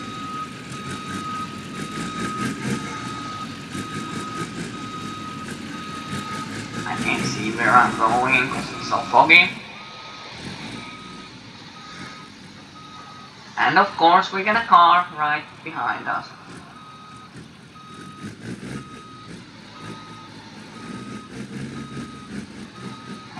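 A timber truck hauling a trailer in the BeamNG.Drive driving game backs up through thick fog, its reversing alarm beeping in a steady repeating pattern over engine rumble while someone talks throughout.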